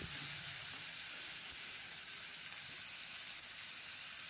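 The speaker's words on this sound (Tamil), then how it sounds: "வெங்காயத்தை ஒரு அரை ஸ்பூன் எண்ணெயில் சேர்த்து வதக்கிக்கலாம்" Onions frying in half a spoon of oil for adai: a quiet, steady sizzle with soft hiss that runs evenly from start to finish, with no talking.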